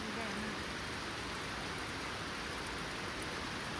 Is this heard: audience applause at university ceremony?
no